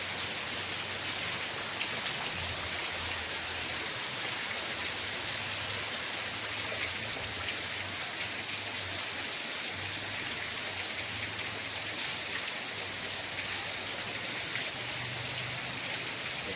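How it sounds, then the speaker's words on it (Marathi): Heavy monsoon rain pours steadily in Rajapur, Ratnagiri, a dense continuous hiss of drops on surfaces with a low rumble underneath, no voices. "बघा पाऊस जोरात आहे"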